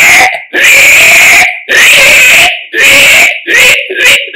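A mimicry artist voices a piglet's squeal: four loud, shrill, sustained squeals in quick succession with short gaps, close to the microphone.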